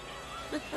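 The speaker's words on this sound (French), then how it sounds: "qu'est-ce que ces chats immondes font dans cette cuisine?" Cats meow in a kitchen, giving a couple of short, faint, rising and falling cries over a low background hum near the end.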